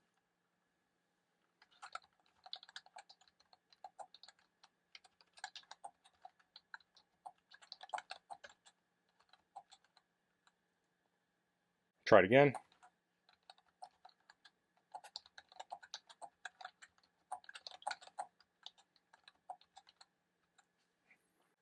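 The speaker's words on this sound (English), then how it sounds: "So let me try typing on this." Typing on a Sablute KM41pro wireless keyboard with fairly deep key travel: bursts of quiet, close keystroke clicks in an irregular rhythm, broken by a brief spoken remark midway.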